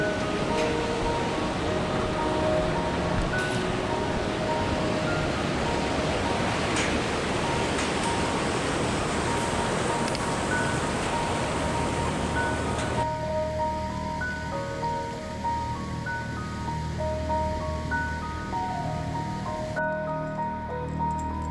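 Mountain torrent on an alpine hiking trail in the Fiz range, rushing steadily and loudly throughout as a dense broadband roar, shifting to a slightly softer, farther wash partway through.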